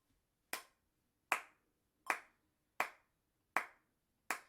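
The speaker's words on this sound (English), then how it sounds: "If we put a metronome on and we clap quarter notes," Hands clap quarter notes in time with a metronome beat: six crisp, evenly spaced claps, each ringing briefly into a quiet room, close and clear with no talking.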